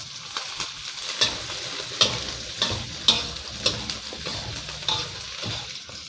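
Onion and fish balls stir-fry in a pan for a curry-powder fish ball dish, with a steady sizzle and irregular clanks of a spatula scraping and tossing the food, close up and without talk.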